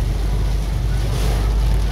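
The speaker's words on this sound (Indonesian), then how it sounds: "Anginnya kencang loh." Loud, continuous roar of strong storm wind with heavy rain and lightning on a road in Banjarnegara, Indonesia, buffeting the microphone, heavy low rumble throughout with no pauses.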